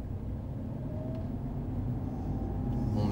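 Steady car engine drone with low rumble during a driving lesson, rising slightly in loudness toward the end as the car re-accelerates in second gear; no talking.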